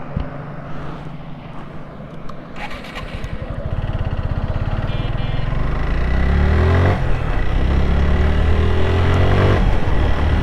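Suzuki Gixxer 150 motorcycle on newly fitted Apollo and Maxxis tyres, the engine pulling away and revving up through rising pitch, loud and close with wind rush as speed builds.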